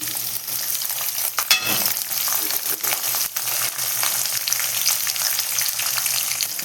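Onions, chilies, mustard seeds and chana dal frying in hot oil: a steady, loud crackling sizzle with occasional pops and stirring scrapes throughout.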